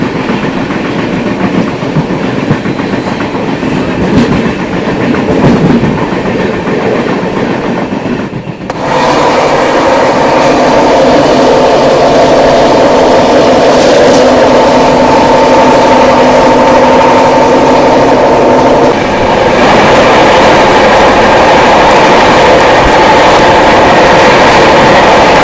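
Lucknow Swarna Shatabdi express train approaching from the opposite direction and rushing past at speed, a loud continuous roar with rhythmic clickety-clack of wheels over rail joints, sustained for most of the stretch with no talking.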